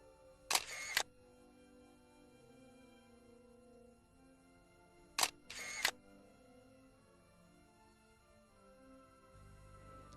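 A single-lens reflex camera shutter fires twice at a slow speed, each a sharp double click of opening then closing about a third of a second apart, with a long quiet gap between, close and distinct.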